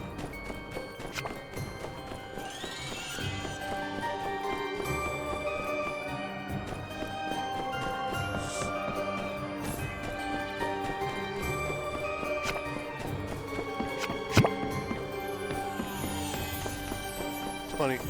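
Horse hooves clip-clop in My Time At Sandrock, a rhythmic tapping gait running steadily beneath game music and other sounds at moderate volume.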